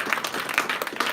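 Audience applause for the speakers and experts at a PyMunich meetup, a close, lively patter of several hands clapping in an uneven, continuous rhythm.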